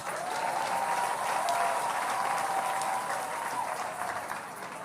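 A church congregation claps in sustained, dense applause throughout, steady and loud, with a faint sung or called tone running underneath during a service led by pastor Marcelo Tunasi.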